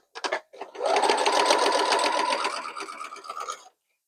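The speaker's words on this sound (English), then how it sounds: "let's do some more chain piecing" A sewing machine chain-pieces quilt block pieces for an Alabama Twist block, starting with a few quick stitches, then running in a steady, close, rapid whir for nearly three seconds before stopping.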